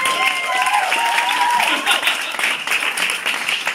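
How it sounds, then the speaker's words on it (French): An audience at a competition final applauds in a steady, dense round of clapping, with whistles or cheering tones and voices mixed in over the top before the applause begins to thin out. "Applaudissez-le quand même"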